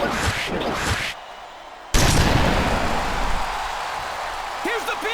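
A loud impact and roaring crowd noise fill a wrestling arena after a slam, with a sudden surge of dense broadband noise, heavy low rumble, and crowd din, while voices are heard over it.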